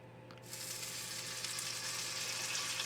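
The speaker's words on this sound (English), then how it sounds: "So right now all I'm doing is searing the sides." Food searing in a pan at a dispersed campsite, its sides browning in grease; a steady, close sizzle that begins abruptly after a brief quiet start and holds through the end.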